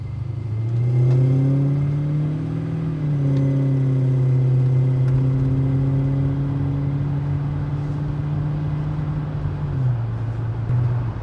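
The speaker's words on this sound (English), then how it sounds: "Although this V8 is loud, it's a nice loud" A London taxi fitted with a swapped V8 engine drives along, its loud, steady engine note holding a low hum with a slight pitch rise and a gear-shift drop near the end, no talk over it.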